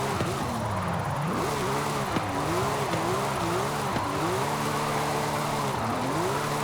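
A Porsche 911 slides through a corner on track, its engine droning in wavering, rising and falling pitches while the tires squeal steadily underneath, loud and close throughout with no talking.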